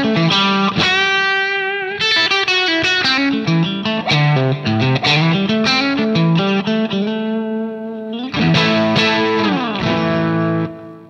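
Electric guitar through a Klon Centaur overdrive pedal set as a light clean boost plays a melodic lead line with bends and sustained notes, lightly driven, up close and unaccompanied.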